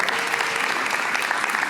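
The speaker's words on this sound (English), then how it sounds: "Let's give them a round of applause." Audience applause for a Board of Education standing at a school district's State of the District address, a dense, steady burst of clapping from a large crowd filling the short stretch.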